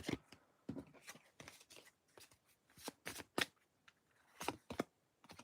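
Worn playing cards shuffled by hand in repeated bursts of riffling and flapping, close and fairly quiet, with brief pauses between shuffles and no talking.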